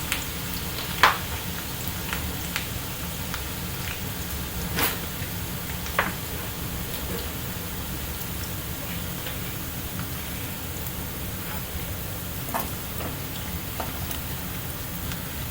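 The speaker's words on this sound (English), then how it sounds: "So it's been frying for a while" Onions frying in hot oil as they turn into crispy fried onions, a steady dense sizzle with scattered small pops and crackles throughout, close up and without any voices.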